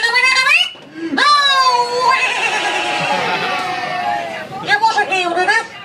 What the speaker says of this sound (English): how about giving him a great big cheer?